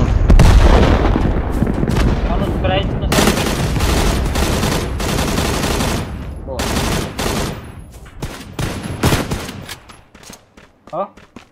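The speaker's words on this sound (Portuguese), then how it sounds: "É de onde esse tiro aí?" Dense, rapid bursts of gunfire and booming shots from the game Knives Out rattle almost continuously, loud and close, thinning out toward the end.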